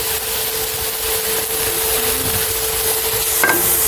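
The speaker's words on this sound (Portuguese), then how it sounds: "Agora, na mesma panela, a gente adiciona a cebola, nesse fundinho que fez aqui na panela." Onions sizzle in a hot pan over leftover browned meat bits with a steady, close hiss, and a brief scrape of a spatula comes near the end.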